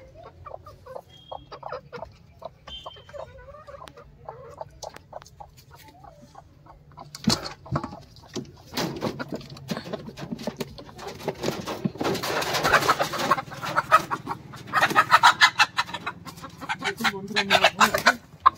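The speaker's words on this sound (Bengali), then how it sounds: "বাইরে তো 3টে মোরগ আছে" Three roosters kept outside, clucking and calling in scattered bursts that start faint and sparse, then grow louder, busier and closer in the second half, with some rustling and handling noises mixed in.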